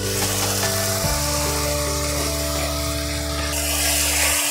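Spiced masala paste with a spoonful of meat masala sizzles and fries in hot oil in a pan, a steady close crackle running throughout with a sustained tonal hum underneath.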